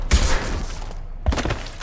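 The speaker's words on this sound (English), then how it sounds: "Quick! Shoot them!" Video game gunfire in Mass Effect 2, two loud bursts of shots about a second apart with rumbling decay between them, no voices over them.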